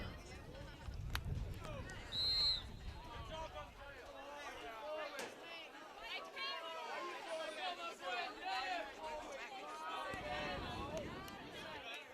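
Spectators chatter as they file out after a high school boys soccer game between Durfee and New Bedford, a steady murmur of many voices at middle distance with occasional footsteps and shouts.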